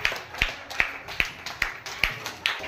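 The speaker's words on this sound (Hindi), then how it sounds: "रे ताली मार" Children at a village primary school sports event clap in a steady rhythm, seven sharp, even claps about every 0.4 seconds, close and clear with faint background murmur.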